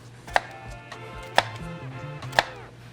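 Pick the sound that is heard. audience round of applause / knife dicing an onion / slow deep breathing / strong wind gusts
knife dicing an onion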